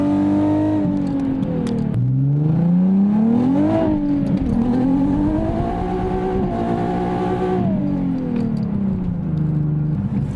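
A Nissan Z car fitted with a VG30ET turbo V6 revs hard through rising and falling pitch sweeps for about ten seconds, loud and close, while the differential is tested with the tires hooking up.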